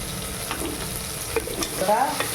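Lump asafoetida fries in hot oil in a pan for dal rice, giving a steady close sizzle with a few light stirring clicks and scrapes.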